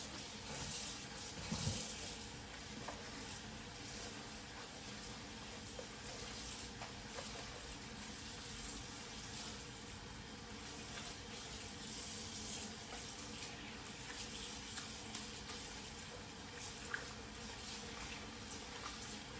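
Tap water runs steadily as watercress is washed for calalou, a soft continuous splash and trickle, quiet and close with small irregular clinks.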